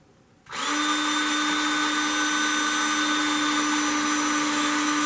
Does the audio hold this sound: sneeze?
no